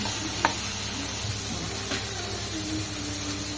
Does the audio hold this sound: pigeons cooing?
no